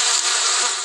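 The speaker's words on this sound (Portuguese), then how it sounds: "Um enxame de abelhas." Swarm of bees buzzing, a dense, loud and continuous hum held close and steady for under a second with no other sound.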